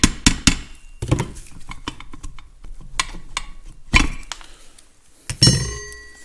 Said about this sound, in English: So you spread them just a little bit with a screwdriver, helps them to release their grip on the shaft.